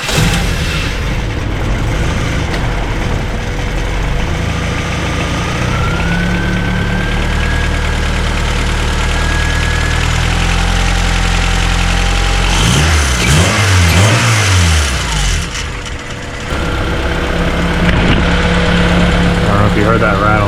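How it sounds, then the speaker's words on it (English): A 1991 Honda Accord four-cylinder with newly installed exhaust headers runs loud and close, a steady engine drone that rises into a rough, rattly rev burst partway through before settling back to idle. "I'm going to start it up and check for exhaust leaks."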